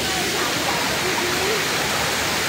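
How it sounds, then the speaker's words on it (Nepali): A small waterfall in Shivapuri forest, a broad, steady rushing roar of falling water, fairly close and unbroken, with no clear talk over it. "यहाँबाट माथि देख्न सक्नुहुन्छ एउटा सानो झरना छ"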